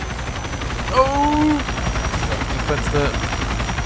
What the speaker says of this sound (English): Oh, helicopter, hello.